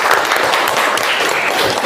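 A classroom of students claps together, a brief dense burst of applause filling the room at close range, steady throughout with no talk over it.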